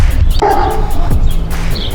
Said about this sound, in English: Don't mind the dogs